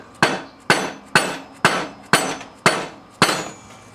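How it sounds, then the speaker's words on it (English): Seven evenly spaced sharp knocks from a rubber mallet striking a stuck spindle on a Husqvarna mower deck, close and distinct, with short decays between blows and no talking. "I'm going to take my rubber mallet hammer"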